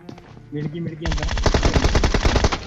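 Rapid automatic gunfire erupts in a shooting video game, a loud burst of closely spaced shots after a quieter opening with faint game sounds and a short snatch of voice.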